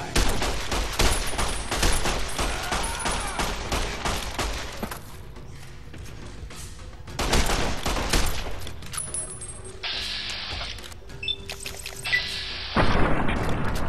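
Rapid bursts of gunfire and booming shots in the Sin City video game, loud volleys broken by short lulls, with sharp electronic effects between the salvos.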